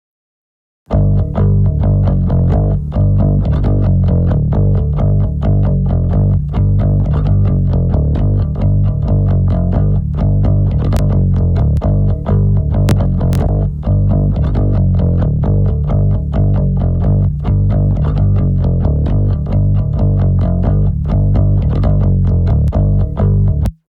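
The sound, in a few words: distorted bass with clean sub low end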